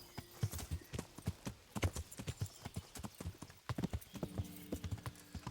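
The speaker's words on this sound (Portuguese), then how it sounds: "esse cavalo é rápido demais" A horse's hooves in the medieval game Kingdom Come: Deliverance beat a quick, fast clip-clop close by, with rapid evenly spaced strikes throughout.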